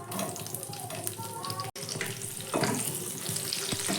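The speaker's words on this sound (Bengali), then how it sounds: "কিশমিশটাকেও আমি হালকা করে একটু ভেজে নিলাম" Raisins frying lightly in hot oil while making Eid-special zarda semai, a steady close sizzle and hiss that swells louder partway through, with a very brief dropout.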